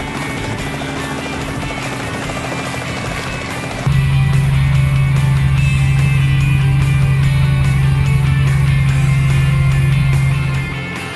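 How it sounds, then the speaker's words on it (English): A helicopter flies over a shooting range at a regional revolver championship, its rotor drone loud and close, with a steady low hum that deepens and strengthens partway through. "Let's go up in the helicopter and take some aerial views of the range"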